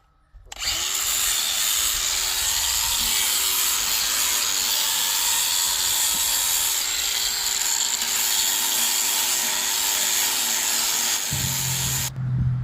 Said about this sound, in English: you got to take a grinder, you got to grind all that lip off of it